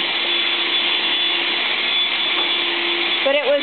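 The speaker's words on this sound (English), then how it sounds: "With the new yellow vacuum that Sarah got for free." A yellow vacuum cleaner, clogged and then repaired, runs loud and close with a steady, even drone that wavers briefly near the end.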